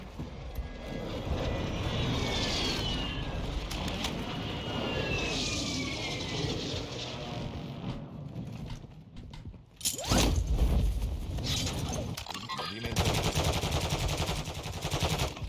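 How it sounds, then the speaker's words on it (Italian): An allied air strike in a shooter video game: steady aircraft engine roar overhead with sweeping passes, then bursts of rapid machine-gun fire and explosions cutting in loudly toward the end. "Attacco aereo alleato in corso."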